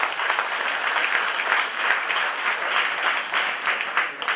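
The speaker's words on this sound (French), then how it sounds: "Et applaudis très fort pour lui." Loud, sustained applause from a gathered crowd at a funeral, steady clapping filling the whole stretch without a break.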